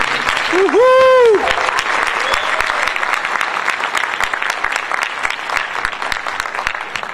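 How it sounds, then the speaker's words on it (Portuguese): An audience at the Jornada Empreendedora USA 2018 event gives loud, sustained, dense applause for a guest from Universal Studios. A single voice whoops near the start, and the clapping continues steadily afterward. "Então eu quero uma salva de palmas para Marcos Barros, da Universal Studios"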